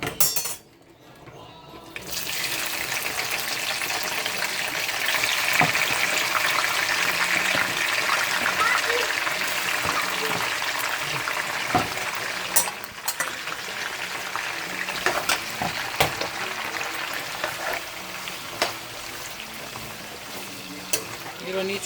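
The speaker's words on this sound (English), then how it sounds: "It's time to add the shrimps. You see it's hot, so I'm gonna add the shrimps." Shrimps sizzling in a small amount of hot oil in a pan for African shrimp and yam with onions, a steady broadband frying hiss throughout, with occasional clinks of utensils against the pan.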